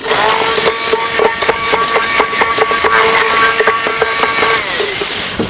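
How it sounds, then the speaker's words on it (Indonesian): Kecombrang (torch ginger) flower paste with a little added oil being ground, making a loud, steady, motor-like grinding whir that runs unbroken through the whole stretch with no talking. "Untuk membantu menghaluskannya, kita bisa tambahkan sedikit minyak. Akan kita haluskan lagi."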